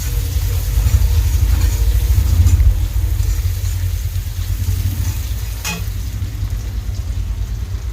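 Chopped onions fry with bay leaves in leftover fish-head oil, giving a steady sizzle over a low background rumble, broken by a brief scrape of stirring.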